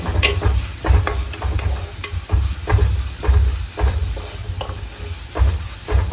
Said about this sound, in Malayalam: അതുവരെ നമ്മൾ ഇങ്ങനെ ഇളക്കണം